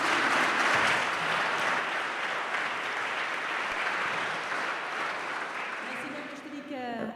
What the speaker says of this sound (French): applaudissons Pauline qui est en train d'apprendre le basque.